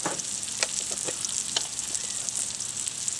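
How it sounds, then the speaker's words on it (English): Onions frying in butter and being stirred, a soft continuous sizzle broken by a few short scraping stir strokes, close by. "I'm going to kind of mush them around a little bit in the butter there"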